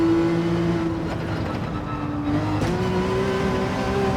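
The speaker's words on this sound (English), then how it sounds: "Going at the limits of the handling of the 911 here." A Porsche 911 GT3 race car is pushed hard at the handling limit with a steady, loud engine drone that rises slightly in pitch toward the end, heard close and without talk.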